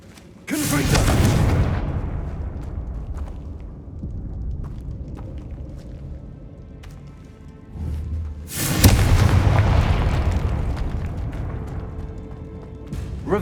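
In Hogwarts Legacy, a Confringo spell sets off two heavy, booming explosions, each a loud close blast followed by a rumbling decay, the second louder and longer.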